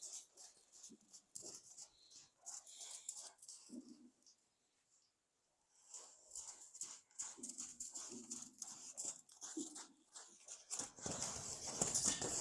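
A horse paws at the ground in irregular scraping, thudding strikes, fairly faint and distant, with a short quiet gap before the pawing resumes and grows louder at the end.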